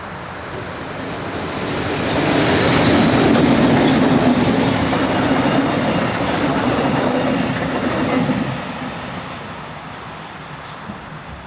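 Class 1044 electric locomotive 1044-088 departing a small-town station with a train, a swelling rumble and rail noise that holds steady for several seconds and then fades into the distance.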